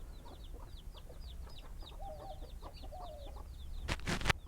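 A hen clucks near her chicks on a tropical homestead, with a run of rapid soft peeping and low clucks, a couple of drawn-out calls, then a few loud sharp bursts at the end.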